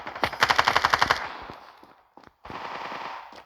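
Rapid burst of automatic gunfire in the mobile shooter Standoff 2, loud and close with a crisp repeating rhythm, followed by a few scattered single shots and a brief pause before a noisy tail.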